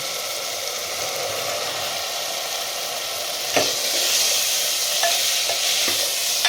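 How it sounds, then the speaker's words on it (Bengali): Chickpeas stir-fried with spices, onion, ginger and tomato purée in a pan give a steady close sizzle, with sharper spatula scrapes and stirring knocks in the second half. "ভালো করে মশলার সঙ্গে কষিয়ে নিচ্ছি"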